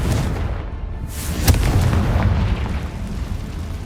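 Confringo fire blast spell from the Hogwarts Legacy video game, a dense, roaring explosive burst with a sharp crack partway through, filling the whole moment with a heavy rumbling wash.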